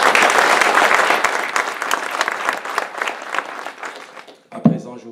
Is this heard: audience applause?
yes